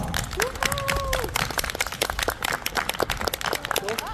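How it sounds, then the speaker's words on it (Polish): A crowd at Krzyżtopór Castle in Ujazd, Poland, applauds with sharp, rapid claps and some cheering or voices mixed in, lively and loud throughout. "Dajcie im wielkie brawa!"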